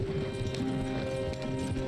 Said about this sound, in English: And John, you'll run the horses into the ground.